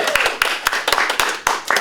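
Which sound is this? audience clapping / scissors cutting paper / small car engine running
audience clapping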